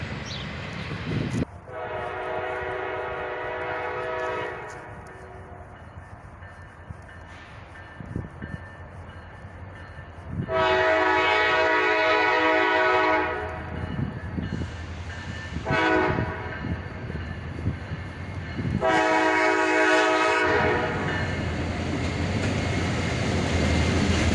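Freight train hauling rusty box cars passes at close range, its wheels rumbling steadily for the whole stretch, while a CSX locomotive horn sounds several loud, sustained blasts with brief gaps between them.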